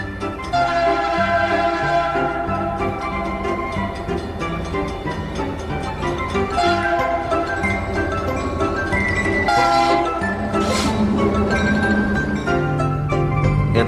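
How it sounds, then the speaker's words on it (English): A train passes close by, a dense continuous rumble and rolling clatter layered with tonal horn-like blasts that swell and fade several times across the stretch, loud and unbroken. "When we see trains, sometimes they are going slowly"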